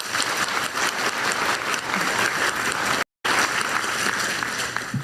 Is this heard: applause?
yes